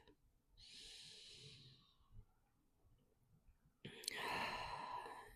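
Deep breathing during an evening yoga flow: a long, soft inhale followed after a pause by a stronger, breathy exhale, close and quiet.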